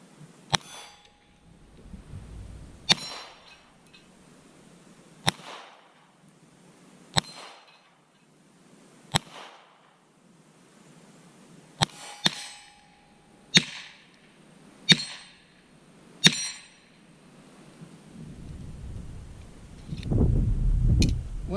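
Sharp, spaced single shots from a GSG 1911 .22 pistol made in Germany, about ten cracks at irregular intervals with a brief quicker cluster midway, followed by handling noise.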